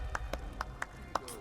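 Hands clapping in The Elder Scrolls Online, Greymoor: five or six sharp, separate claps at an uneven, unhurried pace, each short and crisp over a quiet background.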